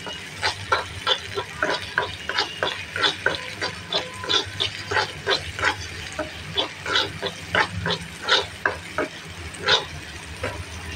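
Onions frying in a pan while being stirred, with a steady sizzle under repeated scraping and stirring strokes at an uneven rhythm, close and alone.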